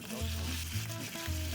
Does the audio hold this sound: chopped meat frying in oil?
yes